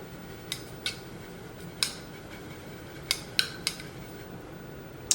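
A makeup brush swirled in a dry cleaning container gives a handful of sharp, scattered clicks and taps of bristles and handle against the container, close and fairly quiet over a soft background hiss.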